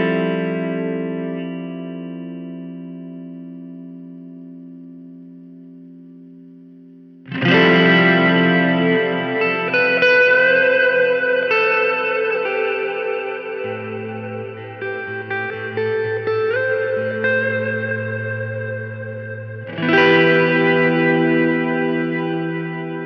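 Keeley Verb O' Trem guitar pedal set to a dark reverb tone: a sustained guitar chord decays, then new strummed chords ring out loud with a washy, lingering reverb tail and no talking.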